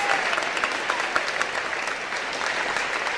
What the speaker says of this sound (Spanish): le recibimos con este aplauso aquí en Las Sazones